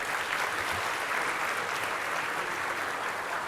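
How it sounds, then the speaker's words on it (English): A large audience at the WTSA 2024 closing ceremony in New Delhi applauds, steady, dense clapping at an even loudness throughout, with no talk over it. "can we have a round of applause for the lady once again?"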